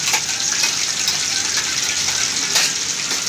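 Ground coconut and poppy seed paste is poured into a hot pan while cooking a chili dish, giving a continuous, fairly loud sizzling hiss with no talk.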